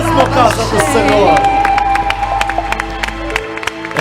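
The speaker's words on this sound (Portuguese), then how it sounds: "Aplaude por esse coral lindo, esse coral ungido." A church congregation applauds the choir with clapping and cheering, under a steady low organ or keyboard drone. Voices and crowd noise mix in, and the claps grow sharper and more distinct as the drone cuts off near the end.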